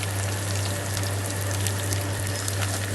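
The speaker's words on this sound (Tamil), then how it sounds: "பச்சை மிளகாய் நான் ஒரு 5 பீஸ் போட்டிருக்கேன். இதுவும் நல்லா வதங்கணும்" Green chillies sautéing in a pan while making prawn biryani, a steady, loud, even sizzle with a constant low hum beneath it and no talk.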